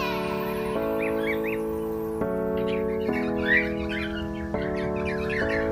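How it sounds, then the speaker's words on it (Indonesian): Australian parakeets kept in a home aviary collection, giving repeated high chirps and warbling calls over a loud steady whine of harmonic droning tones that start and stop in blocks. "Oke, kita lihat koleksi beliau burung parkitnya yang Australia pemirsa."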